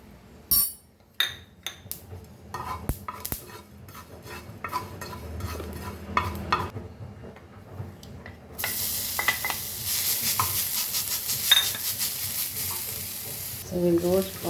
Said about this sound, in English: So we will roast all this together along with the coconut.